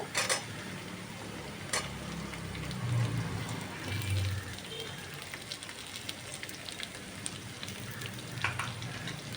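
Potatoes fry in a pan with onion, grated garlic, ginger and green chilli, a soft steady sizzle with occasional light clinks and stirring, fairly faint and without speech.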